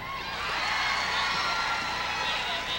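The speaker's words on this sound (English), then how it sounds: "Look at the Houlton Shiretown crowd." A dense crowd of Houlton Shiretown fans roars and cheers continuously in a gym during a 1993 girls' Class B Eastern Maine final basketball game, loud and sustained throughout.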